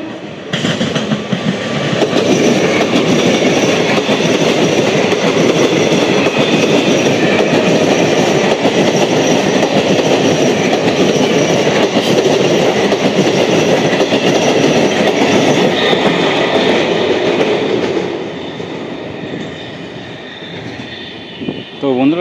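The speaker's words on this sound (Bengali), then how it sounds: "সুন্দরভাবে অ্যাক্সেলারেশনটা করলো, ওদিকটাই থাকলে ভালো হতো, আরও পেছনে থাকলে। এটা হচ্ছে আপ শান্তিপুর লোকাল।" An up Shantipur local, a 12-coach Alstom electric train on the Sealdah line, runs past loud and close with a steady rolling rumble and faint wheel clatter for most of the stretch, then eases off toward the end.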